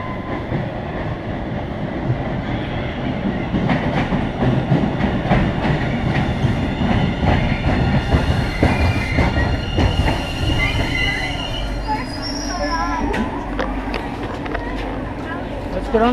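A Boston subway train rumbles in and slows, wheels squealing with high metallic screeches toward the end, loud and near, with people talking underneath.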